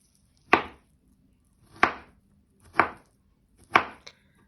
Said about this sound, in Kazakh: енді сәбізімізді сөйтіп төртбұрыштап турап аламыз кубиктеп